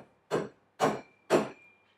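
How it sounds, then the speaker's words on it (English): A soft hammer taps a go-kart axle carrier three times at an even pace, roughly half a second apart. Each blow is a short, dull, close knock that dies away quickly, and the workshop is quiet between strikes. "and your soft hammer"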